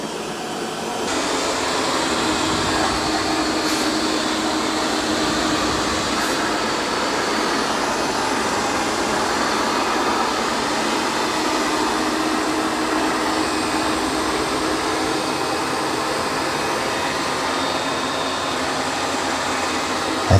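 A Roborock S8 MaxV Ultra or Dreame X40 robot vacuum mop cleaning a rug keeps up a constant close whirring hum and airy suction for the full stretch, with no talking.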